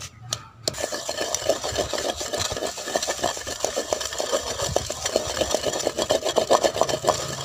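Almonds and poppy seeds being rubbed and ground by hand for sardai, a continuous dense gritty scraping with rapid repeated strokes, close and steady throughout.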